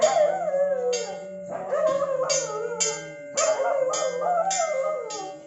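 Lexi, a pet dog, howls along with a ringing prayer bell during a home puja, long wavering howls rising and falling while the bell strikes repeatedly in a steady rhythm, both close.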